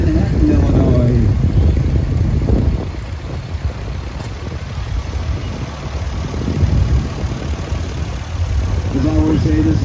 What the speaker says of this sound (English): Coming up, we got an Alice Chalmers WD.